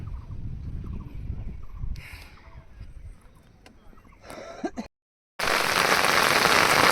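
Rain falling on a fishing boat on the Ganges in Nadia, first as a steady close patter with a few faint knocks, then a brief cutout before a loud, dense downpour roars close by.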